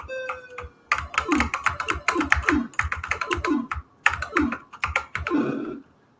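Close, rapid tapping on the arrow keys of a TI-99/4A computer keyboard during a game, firm clicks in irregular rhythmic bursts mixed with short game beeps, no voices.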